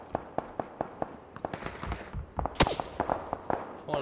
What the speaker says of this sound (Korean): 총성, 총성.